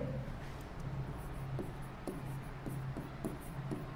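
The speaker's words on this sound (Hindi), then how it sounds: "तो देखिए सबसे पहले लिखेंगे" A pen scratches across paper during a maths lesson, with a string of short, quiet strokes and scribbles that come in an uneven rhythm, close up and alone.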